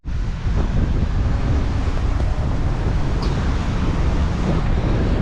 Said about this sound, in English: The wind is really brutal right now